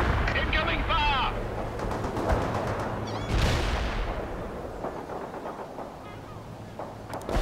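Artillery and gunfire crash through a World in Conflict battle, with sharp shots, rumbling explosions and one rising whoosh into a blast, fairly loud and layered over radio-style voice chatter.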